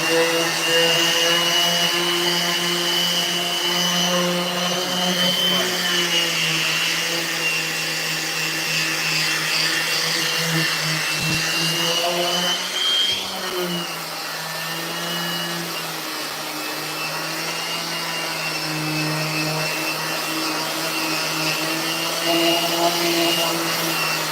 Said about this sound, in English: A lot of the sanding is just getting excess glue off.